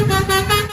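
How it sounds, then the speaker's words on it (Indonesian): A toy telolet bus horn plays a short, loud, close tonal melody of rising and falling notes that cuts off abruptly. "Ini adalah bus telolet."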